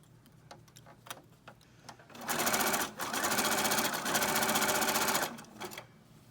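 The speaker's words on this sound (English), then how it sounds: "I use a small zigzag stitch, and I zigzag down, kind of down one side" A sewing machine runs a small zigzag stitch through fabric scraps, starting with a few soft taps and then a loud, steady whirring run of about three seconds with a brief pause, before trailing off into light clicks.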